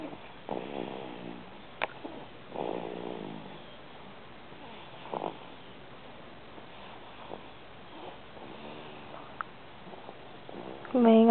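A pet lying on a person snores softly, with breathy rasping snores repeating every couple of seconds over a quiet background. A louder voice enters at the very end.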